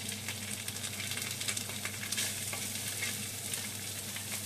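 Onions and bacon lardons frying together in a pan as a spoon stirs them, a continuous close sizzle broken by soft scraping strokes, with no one talking.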